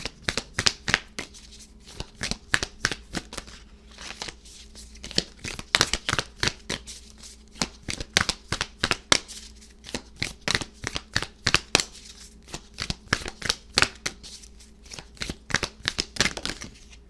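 Tarot cards are shuffled by hand in continuous riffling, flapping bursts with short pauses between rounds, close and clear with no talking over them.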